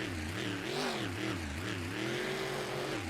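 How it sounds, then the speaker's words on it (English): Monster truck sliding around during a freestyle show, its engine revving up and down in repeated surges with a strong, close, continuous roar and no voices over it. "Sliding that truck around"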